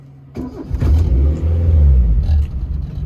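A petrol car engine starts up with a quick crank, catches and settles into a loud, close rev and idle that runs on for a few seconds with no talking.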